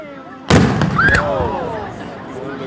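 Fireworks explode with one sharp, loud boom that rolls out into a long fading rumble, with a descending whistle after the blast and a voice talking over it.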